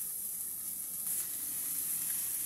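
Tomato and bay leaf sautéing in a pan for pakbet, giving a steady close hiss of frying that grows slightly louder partway through.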